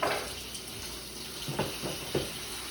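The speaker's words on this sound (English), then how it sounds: "So I'll usually typically just turn the sink on a little bit." Kitchen sink tap turned on low while cooking pepper steak with onions and green pepper, giving a soft steady running-water hiss with a few faint splashes and clinks, fairly quiet with no talking.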